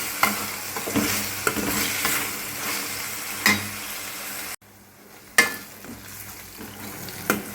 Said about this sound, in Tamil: இப்போ வெங்காயம் நல்லா வதங்கிக்கிட்டு இருக்கு